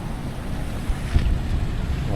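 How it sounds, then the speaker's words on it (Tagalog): Strong wind blowing near rushing water by the Bato Ferry Bridge in Aurora, a steady low roaring buffet against the microphone with a gust swelling midway, no talking. "Lakas ng hangin"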